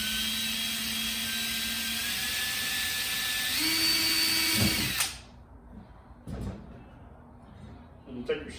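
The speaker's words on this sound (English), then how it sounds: "you'll drill a small pilot hole with a small screwdriver" A steady, loud power drill whines for about five seconds drilling a small pilot hole in sheet metal, with a pitch shift partway, then stops, followed by a few short clicks and clatters.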